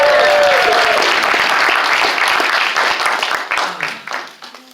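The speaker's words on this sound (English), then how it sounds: "Let's give him a round of applause" A comedy club audience breaks into loud, sustained applause for Kyle at a stand-up show, dense clapping that slowly thins and fades toward the end.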